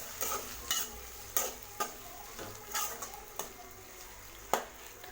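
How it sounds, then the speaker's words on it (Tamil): Chopped tomatoes being sautéed in a pan for a prawn gravy, with a spoon scraping and stirring in a steady series of close, sharp strokes over a faint sizzle; no one talks. "ஆட் பண்ணிவிட்டு இதை நல்லா வதக்கி விடுங்க."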